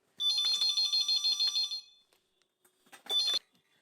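A telephone rings in a shop with an electronic trilling tone, one long burst of repeated warbles, a pause, then a shorter second burst, fairly clear and with no talking.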